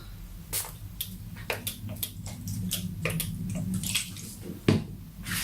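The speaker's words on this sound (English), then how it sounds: "And then spritz it with water." Several quick hissing spritzes of a spray bottle spraying water, irregularly spaced, close by over a low background hum.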